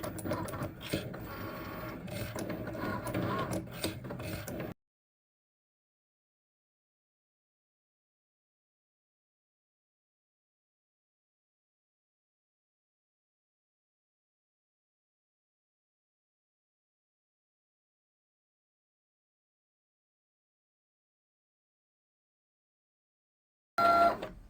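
A Cricut Maker engraves an A4 acrylic board with a close, busy mechanical whirring and buzzing for a few seconds, then total silence, and a brief burst of the machine returns at the very end.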